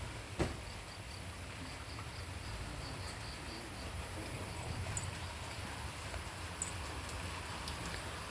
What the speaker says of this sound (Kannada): ಮಳೆ ನೋಡಿ ಬರ್ತಾ ಇದೆ